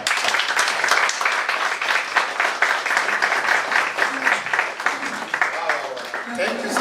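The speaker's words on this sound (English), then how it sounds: "Thank you so much for that clap." A conference audience gives a round of clapping, a dense burst of hand claps that thins toward the end while a voice speaks over it.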